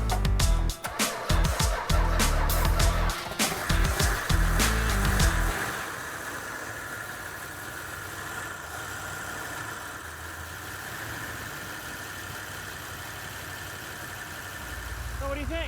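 An old car engine, fed gas through a closed choke, catches with a loud burst of ragged, sputtering bangs for several seconds, then settles into a quieter, steady running hum.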